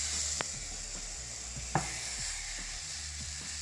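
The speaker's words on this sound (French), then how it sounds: "On va bien faire chauffer notre poêle et on va venir snacker l'ananas" Pineapple sears in a hot frying pan, a soft, steady sizzle with occasional faint crackles and clicks, heard alone at low volume.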